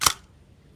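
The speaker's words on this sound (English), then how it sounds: "Gonna test a shutter speed. So now it's 500." A Zenit E film SLR shutter fires once at 1/500, a single sharp, close mechanical click that snaps and dies away almost instantly into quiet.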